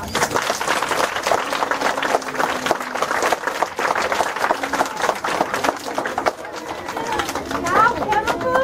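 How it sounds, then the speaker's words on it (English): An audience at a parish library play gives the cast a round of applause, steady clapping mixed with crowd chatter and voices, thinning toward the end while children's voices rise. "I think they deserve another round of applause"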